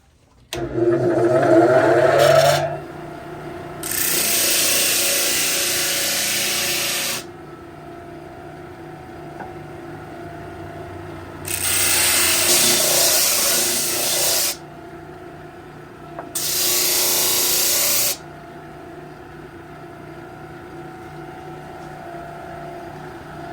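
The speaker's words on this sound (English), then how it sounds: "now I'm going to sand this down thin as I think it needs to be" A thin piece of wood is sanded down in three separate bursts of harsh, loud rasping abrasion, separated by quieter pauses with a brief clattering handling noise at the start.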